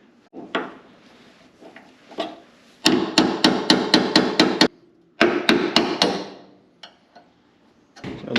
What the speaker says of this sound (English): now we gotta press these bushings out right here